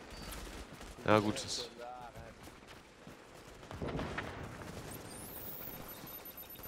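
Gunfire in The Division's Dark Zone, a short burst of shots near the start followed by a rougher rumble later, all under game noise with someone speaking German over it.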